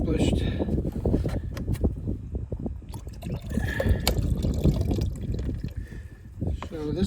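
Fresh coolant pours and splashes steadily into the cooling system of a 2009 Range Rover Supercharged, a continuous liquid gurgle with muffled voices and workshop noise mixed in close by.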